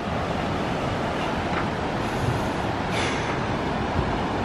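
A raging river pours over falls in the Sierra Nevada near Kyburz in the Lake Tahoe area. A loud, steady, dense roar of rushing water fills the whole clip with no pause and no talk.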